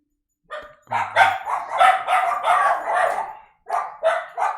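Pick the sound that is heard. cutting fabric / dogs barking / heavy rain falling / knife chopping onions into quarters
dogs barking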